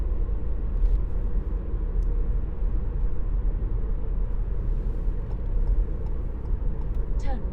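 A 2018 Ford Fiesta's 1.0-litre EcoBoost engine drones steadily from inside the cabin, a constant low rumble with road noise throughout, no talking.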